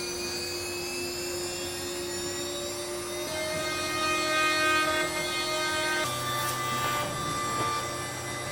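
A CNC router fitted with a 1/2 inch bit cutting wood to clear waste for a floating entryway shelf: a steady, loud high-pitched whine with tonal harmonics, running continuously and rising slightly midway, with no talk.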